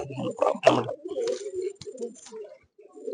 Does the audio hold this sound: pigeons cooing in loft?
yes